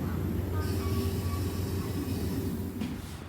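The Baekdudaegan canyon train rumbles steadily at Yeongju station: a continuous low, heavy mechanical drone with faint tonal whines above it, close and fairly loud throughout.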